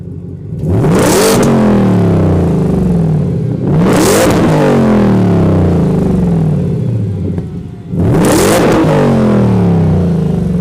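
Ford F-150 Raptor R engine revved three times in a row, each a loud, close rise in pitch that holds before dropping back to idle, with a short gap between blips and no voices.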